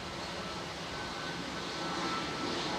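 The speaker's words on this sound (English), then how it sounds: "Lufthansa departing now." Lufthansa A320 airliner departing Manchester Airport: a distant, steady broadband engine rumble and hiss with no distinct events and no voices.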